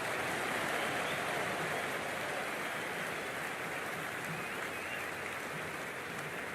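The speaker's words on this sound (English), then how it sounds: "already the crowd making a hell of a racket" A stadium crowd in the Cricket 26 video game roars and applauds continuously during a Big Bash League match, a dense, steady wash of distant cheering with no break.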